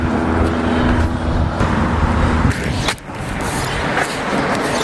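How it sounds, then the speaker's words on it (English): Busy traffic on a New York City street, a loud continuous rumble of cars and heavier vehicles passing close by, with a brief dip partway through. "So much active cars today."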